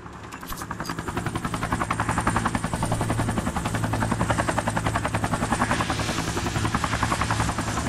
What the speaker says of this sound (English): Another MI-8 helicopter.